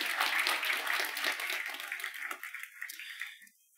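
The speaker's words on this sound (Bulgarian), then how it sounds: "Аплодисменти за Никола." A small indoor audience at a talk gives a short burst of applause, faint and fairly distant, thinning out over a few seconds before it fades.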